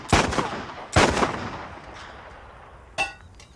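Call of Duty video game gunfire: two sharp, close shots about a second apart, then a fainter third shot after a pause.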